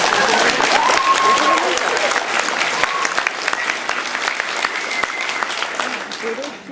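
A live Q&A crowd at a Red Dwarf fan event claps loudly and continuously throughout, a dense wash of applause that eases slightly toward the end, with some voices mixed in underneath.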